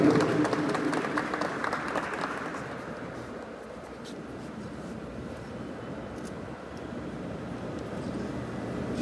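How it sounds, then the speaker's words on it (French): An audience at a law faculty graduation ceremony in Cap-Haïtien applauds a commissioner, with a burst of clapping at first that settles into a lighter, continuing patter through the hall. "je vous demande d'applaudir le commissaire Édouard Charles Durand"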